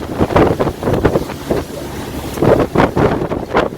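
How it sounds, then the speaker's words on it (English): Strong wind buffets a sailboat at sea off the Greek coast near Aegina, a loud, gusty roar rising and falling over water noise, with no voices. "the wind keeps pushing the bow of the boat out towards the coast of Aegina"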